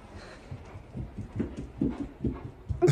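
A big dog stepping down a flight of stairs, its heavy paws landing in a quick uneven series of soft thumps, close and fairly faint against a low background hum.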